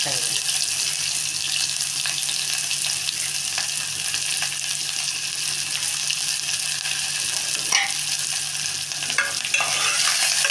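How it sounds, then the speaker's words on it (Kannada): Onions frying in a little oil for a sprouted chickpea sambar give a steady, close sizzle with occasional stirring scrapes, continuous and even throughout. "ಸ್ವಲ್ಪ ಎಣ್ಣೆಲಿ ಈ ಥರ ಬಾಡ್ತೀವಿ ನೋಡಿ ಈರುಳ್ಳಿ"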